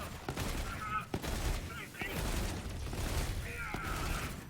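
The Try-Bolt legendary rifle fires in Borderlands 3, with repeated punchy shots and mechanical clatter amid busy combat noise, a voice talking over the top.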